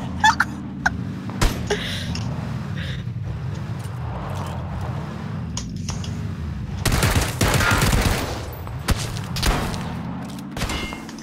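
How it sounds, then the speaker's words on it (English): Gunfire in the shooter game PUBG sounds as scattered sharp shots, then a denser rapid burst in the later part, mixed under ongoing voices and game audio. "That's me shooting at you guys."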